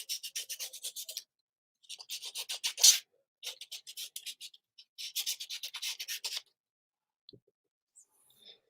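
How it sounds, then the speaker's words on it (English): A sanding block rubs back and forth along the cut edge of paper in close, rhythmic bursts of rasping strokes separated by short pauses, fading to faint taps at the end. "I am going to use my sanding block on this one"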